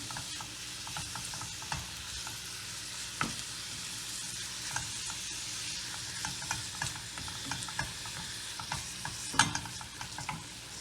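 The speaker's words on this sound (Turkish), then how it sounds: "kıymamı da güzelce kavuracağım." 200 grams of minced meat sizzles and crackles in a hot pan, with a utensil scraping and stirring at irregular moments throughout.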